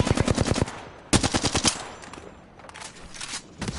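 Smart-bullet gunfire in a video game, two rapid bursts of automatic shots close and loud, then a softer, more distant stutter of fire trailing off.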